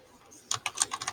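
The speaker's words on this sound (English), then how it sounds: "So I start typing." A quick burst of keystrokes clatters on a computer keyboard, about six taps in rapid succession after a brief quiet moment.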